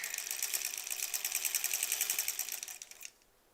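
A sewing machine stitches curved improv quilt pieces, running in a steady, fast mechanical rhythm, close and clear, for about three seconds before stopping abruptly into near silence.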